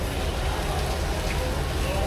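Steady rain falls outdoors during a trip from Calbayog City to Naval, Biliran, a dense continuous patter and hiss at moderate loudness, with faint murmur of people in the background.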